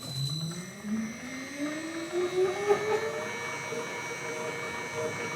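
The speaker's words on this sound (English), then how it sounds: "Here goes the dyno." An Ohlins shock absorber spins up on a suspension dyno, giving a steady mechanical whine that rises smoothly in pitch over several seconds, continuous and fairly close with no talk.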